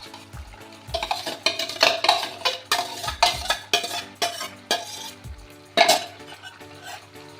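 Cauliflower goes into a pan of cooked-down spice paste and is stirred with a utensil, giving a run of rhythmic scraping and clinking strokes over a soft frying sizzle, close up with no talk.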